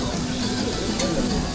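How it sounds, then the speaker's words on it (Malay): Fish frying at a street food stall in Istanbul gives a steady close sizzle with light crackle and stirring noise, no speech. "Tengok ini masak dengan goreng ikan."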